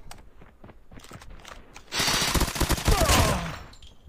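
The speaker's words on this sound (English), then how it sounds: "Changing mag, cover me." Magazine change in the Call of Duty Mobile shooter: faint mechanical clicks and clacks of the reload come first, then loud, dense automatic gunfire bursts take over for over a second before fading.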